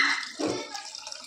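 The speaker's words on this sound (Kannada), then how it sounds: "ಇವಾಗ ಅದೇ ಬೌಲ್ಗೆ ನೀರು ಹಾಕ್ಕೊಂಡು ಹಾಕ್ಕೊತಿದ್ದೀನಿ" Water poured into the same bowl just used after grinding a masala in a mixer jar for a crab curry, a short close splash and trickle lasting about a second, with no voice.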